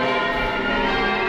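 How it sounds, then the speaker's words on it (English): City bells ring in a sustained, dense tone of overlapping resonant partials, loud and continuous with no talk. "You didn't hear the bells ringing?"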